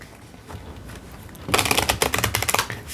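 Tarot cards shuffled by hand in a quick riffle, starting after a quiet pause and running as a dense burst of crisp flutters and snaps for the final second and a half.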